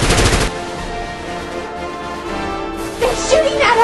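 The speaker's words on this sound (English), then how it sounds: "They're shooting at us!" Rapid bursts of gunfire from a stop-motion animated film ring out loud at the start, then a steady effects-laden background continues with more sharp activity near the end.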